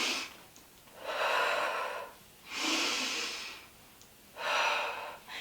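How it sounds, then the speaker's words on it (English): Three deep, slow labor breaths, each a long breathy exhale rising and fading in a steady rhythm with quiet pauses between, close and clear with no talking. "out through your mouth. Big breath."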